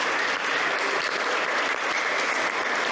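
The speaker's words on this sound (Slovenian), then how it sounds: "njemu velik aplavz" Dense, steady applause from an audience at a parish youth oratory gathering, loud and continuous with no talk over it.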